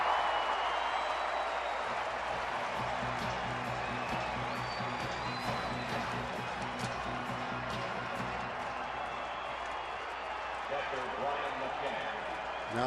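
About 23,000 fans at an Atlanta at Arizona baseball game make a broad, distant crowd roar with scattered clapping, steady throughout under a commentator's voice.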